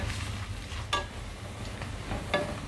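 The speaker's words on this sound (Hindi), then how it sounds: "और करेलों को हल्का सुनहरा होने तक फ्राई करेंगे।" Bitter gourd (karela) frying in half a cup of oil in a wok, a steady close sizzling hiss broken by two sharp stirring clinks.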